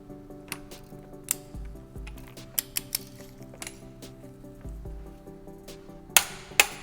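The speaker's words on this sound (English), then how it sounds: "Now we're going to use the torque wrench." Motorcycle sprocket bolts on an Aprilia RSV4 being tightened with a torque wrench to 50 Nm, giving a series of sharp metallic clicks and ratcheting ticks at close range, scattered across a quiet workshop background.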